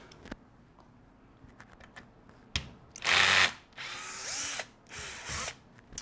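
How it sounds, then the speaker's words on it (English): Power driver backing out the brace bolts on a Flux Defense Raider brace, with several short whirring bursts after faint clicks and taps, close up and without talk. "I'm going to be using a driver because it's faster."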